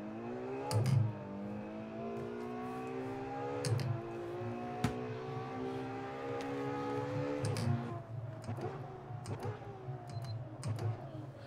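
A Ferrari race car engine in the video game Assetto Corsa revs hard and climbs through the gears, each shift marked by a sharp drop and a clunk, with loud, steady engine tone throughout.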